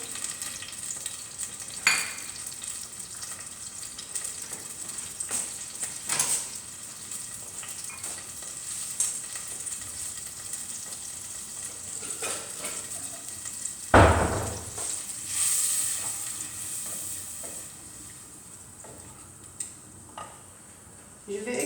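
Onions fry in oil in a traditional cooking pot, with a low continuous sizzle broken by occasional sharp clinks and scrapes of a utensil and one louder stir midway, with no talking.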